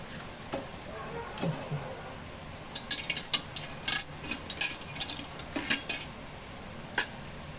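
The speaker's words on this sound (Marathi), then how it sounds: "हिंग असं मिक्स करायचं सगळं एकत्र" Metal spoon stirring asafoetida and spices into oil in a bowl, scattered light clinks and scrapes in an irregular rhythm, close, with a low steady background hiss.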